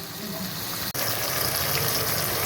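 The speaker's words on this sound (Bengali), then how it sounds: "এই জলটা এবার দিয়ে দিচ্ছি আমি" Water pours steadily into a mustard and poppy seed paste for a tilapia curry, a continuous close gushing splash with one brief break near the start.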